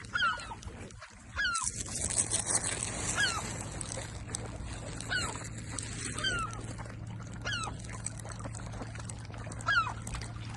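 Ducks and swans on a pond at Burnham-on-Crouch give short, repeated chirping calls at a steady pace over a constant low hum, with a faint voice close by.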